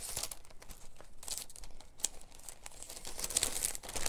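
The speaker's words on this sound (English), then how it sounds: "Opening plastic on camera is usually really, really noisy." Plastic packaging on a craft card kit is opened up close, with quiet, irregular crinkling and rustling and a few sharper crackles scattered throughout.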